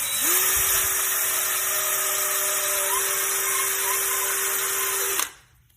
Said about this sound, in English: just kind of gun the drill